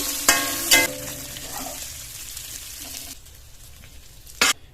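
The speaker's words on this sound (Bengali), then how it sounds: "চিংড়ি মাছগুলো ভেজে নিয়েছি, তুলে নেব" Prawns frying in hot oil with a little turmeric, a steady close sizzle punctuated by a few sharp crackling bursts, fading quieter toward the end.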